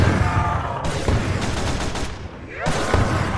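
Rapid weapon blasts in the Roblox zombie game Project Lazarus, a loud burst of repeated bangs with a brief pause before the fire starts again, heard up close.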